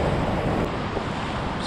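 Large ocean waves breaking on a Long Island surf-fishing beach with an 8-foot swell under a light north wind, a steady loud wash of surf and wind buffeting the microphone, no voices.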